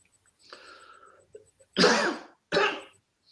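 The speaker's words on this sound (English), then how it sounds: "I've got a cough badly" A few harsh coughs close up, two strong bursts following a softer throat-clearing rasp, with brief silences between.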